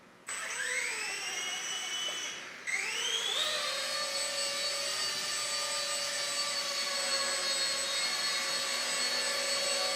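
Small Esky F150 V2 RC helicopter, Airwolf body, rotor spinning up: a rising electric whine climbs in pitch after a brief pause, then settles into a steady loud high hum and rotor drone.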